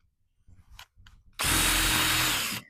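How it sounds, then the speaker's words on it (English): A power drill bores a tap hole into a maple tree for sugaring, starting after a few faint handling sounds with a loud, steady whine that runs close and unbroken for over a second before cutting off. "Remember, you want to take the drill, put it in there in an upward motion."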